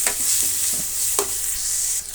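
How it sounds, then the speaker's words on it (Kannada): Grated carrot fries with tomato and onion in a pan, a soft continuous sizzle punctuated by several scraping stirs of the spoon, close up and wordless. "ಇದು ಕೂಡ ಟೊಮೆಟೊ ಈರುಳ್ಳಿ ಜೊತೆ ಫ್ರೈ ಆಗಲಿ."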